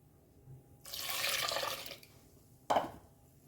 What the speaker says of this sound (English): now we will add some water. 1 cup of water.